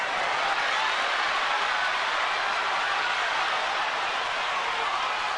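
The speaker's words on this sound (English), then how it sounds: "You hear the crowd's reaction. They like what they see." Boxing crowd at the Pacquiao vs Bradley fight gives a steady, dense roar of cheering and applause that fills the arena without a break.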